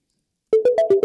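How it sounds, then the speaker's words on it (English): Randomly generated synthesized melody coded in Sonic Pi with reverb added, five bright tonal notes in a steady rhythm after half a second of silence, ringing on with a reverberant tail. "And let's add some reverb to that."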